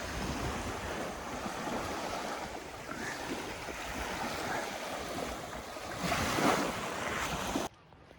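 Waves wash steadily onto a small, wild beach cove at Brégançon, a continuous close surf rush mixed with wind buffeting the microphone, swelling briefly louder near the end before cutting off abruptly.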